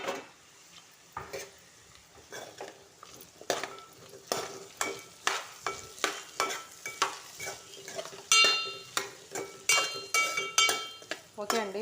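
Potato pieces frying in a pan get stirred with a metal spoon, a run of rhythmic scrapes and clacks over a low sizzle, steady and close, with a brief spoken phrase near the start.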